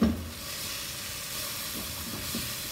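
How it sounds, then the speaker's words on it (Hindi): Mashed roasted eggplant bharta fries in a pan, giving a steady, even sizzle and hiss throughout with no talking. "अब यहाँ पर हम इसको अच्छे से मैश करके और थोड़ी देर इसको अच्छे से भूनेंगे"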